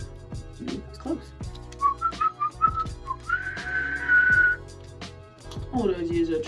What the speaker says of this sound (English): I learned how to whistle.